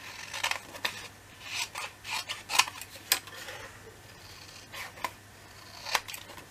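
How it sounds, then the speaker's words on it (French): Scissors snip and rub through paper for a Christmas-themed scrapbook album, a series of quiet, irregular cuts and rustles close by. "On découpe."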